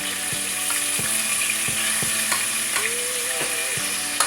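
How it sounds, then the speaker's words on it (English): Ingredients for lima beans with smoked neck bones and ham sizzle steadily in a pot while a utensil clinks and scrapes against the sides in a regular stirring rhythm. "Let that sizzle for a bit in our pot."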